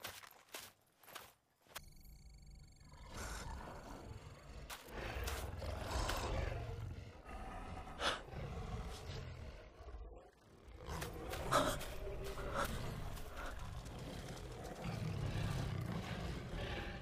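Loud, rumbling animal snarls and growls come in repeated bursts, close and harsh, with brief quiet gaps between them.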